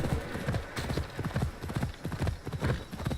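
Rapid clip-clopping horse hooves in Assassin's Creed Odyssey at a steady gallop, close and continuous, with faint background noise.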